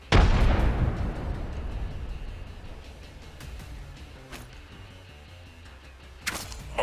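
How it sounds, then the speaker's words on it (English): A frag grenade detonates in the shooter Apex Legends, a loud sudden blast right at the start that rolls off into a long fading rumble, followed later by a few sharp cracks and a final pop. "Throwing frag."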